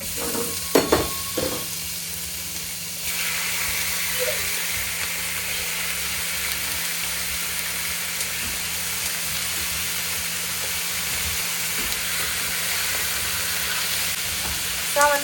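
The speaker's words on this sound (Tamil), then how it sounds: "தேங்காய் எண்ணெய் ஊற்றிட்டு நம்ம வந்து டேரெக்டாக கருவேப்பிலை போட்டுக்கலாம். கருவேப்பிலை, அதுக்கப்புறம் சிக்கன்." Chicken and curry leaves frying in coconut oil, a steady loud sizzle and hiss that runs throughout after a few brief clatters at the start, with no voices over it.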